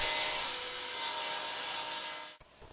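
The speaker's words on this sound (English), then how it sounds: "Next I cut my apron rails to the exact length that I need and trim them to the desired width." A saw cutting wooden apron rails to length for a small table, heard as one loud, continuous, close rasping stroke that fills most of the clip and then stops abruptly, leaving a little faint shuffling.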